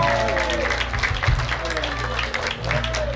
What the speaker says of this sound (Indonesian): Wah, tepuk tangan dong.